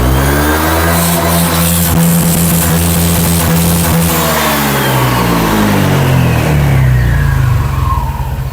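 A Honda Click 125 scooter fitted with a TSMP Silent Killer version 1 exhaust is revved at full throttle. The engine note climbs and holds, loud and close, with no talk over it.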